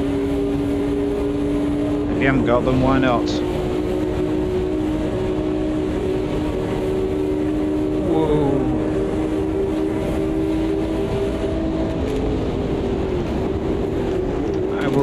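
A historic race car, a Le Mans-era car set against a Ferrari 250 GTO, races in the Automobilista 2 game. Its engine holds a steady droning pitch with sharp revving sweeps through gear changes, loud from the cockpit while someone talks over it.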